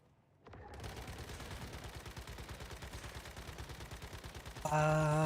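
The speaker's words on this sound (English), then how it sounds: "I like shooting my machine guns." Rapid machine gun fire in the Once Human video game, a steady rhythmic burst of loud repeated shots lasting several seconds, ending with a brighter tonal sound over the gunfire.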